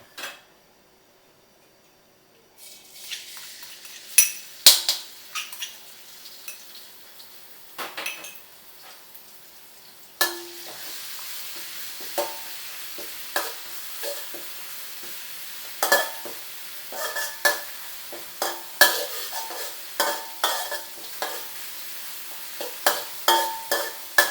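Pounded chili and garlic paste is stir-fried in oil for a shrimp curry-paste stir-fry. A steady sizzle runs under repeated close metal spatula scrapes and knocks against the pan. It starts quietly after a silent opening and grows busier later.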